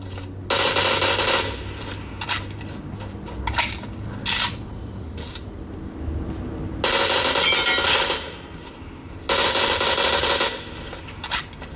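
Gunfire through a 6x scope in PUBG Mobile, played on a Samsung Galaxy A34 5G phone: loud, sustained bursts of automatic fire, each lasting about a second, separated by quieter gaps with a few short, sharper shots between them.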